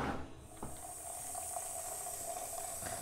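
Water running steadily from a home radiator being drained indoors, a continuous hiss and trickle with a faint tone, plus a couple of light knocks near the start.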